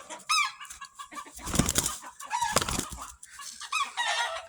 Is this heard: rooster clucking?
yes